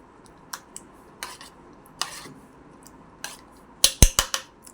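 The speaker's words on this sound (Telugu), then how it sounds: "ఇందులో వీటిని కూడా బాగా మిక్స్ చేయాలండి" A spoon stirring fruit salad in a bowl: scattered light clinks and scrapes of metal against the dish, quiet at first, then a brisker cluster of sharper taps near the end.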